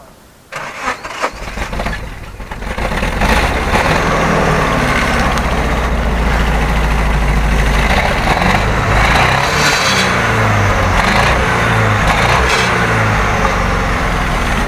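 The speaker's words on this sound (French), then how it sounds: "vous allez pardonner un petit peu l'hésitation du moteur à démarrer" A Nissan 200SX S13 turbo, 170 hp, cranks with some hesitation and then catches, settling into a loud, steady, close idle that runs alone for the rest of the clip.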